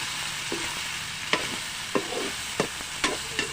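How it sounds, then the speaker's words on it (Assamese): Chicken meat frying in a pan sizzles steadily while a utensil stirs it, giving a handful of sharp scraping strokes spaced about half a second apart. "এয়া ঢাকন এখন আঁতৰাই আকৌ এবাৰ লৰাই দিছোঁ।"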